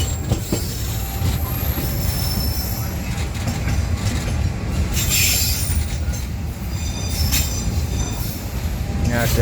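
A train rolls through Surabaya Kota station in Indonesia with metallic wheel squeals and clattering, a steady rumble underneath, and sharp screeches rising near the end.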